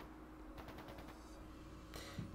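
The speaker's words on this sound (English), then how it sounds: "That sounded like gunfire." Gunfire sounds in Trails of Cold Steel 2, a quiet rapid burst of shots like a machine gun, followed moments later by another short burst, all faint beneath steady background noise.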